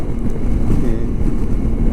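Suzuki Burgman 200 scooter accelerating past 90 toward 100 km/h at around 7,000 rpm, its engine drone buried under loud buffeting wind rush.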